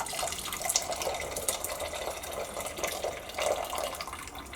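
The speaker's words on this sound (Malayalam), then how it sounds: "ഇത് അരിച്ചിട്ട് നമുക്ക് നമ്മുടെ ഈ കടലയിലേക്ക് ഒഴിക്കാം." Boiled black tea is strained and poured onto chickpeas in a kitchen, a light trickling, splashing stream of liquid with small drips, fairly soft and uneven.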